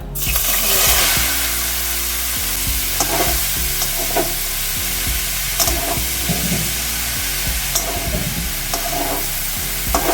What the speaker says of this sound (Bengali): আর এই যে একটু হিং দিলাম, দিয়ে এই মোচাটা, সিদ্ধ করা মোচাটা